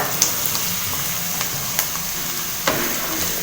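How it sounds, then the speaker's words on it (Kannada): Snake gourd pieces fry with onions in oil over a high flame, giving a steady close sizzle broken by a few sharp clicks and pops as they are stirred. "ಸ್ಟವ್ನ ಹೈ ಫ್ಲೇಮಲ್ಲಿ ಇಟ್ಕೊಂಡು ಚೆನ್ನಾಗಿ ಫ್ರೈ ಮಾಡ್ಕೊಳ್ಳಿ."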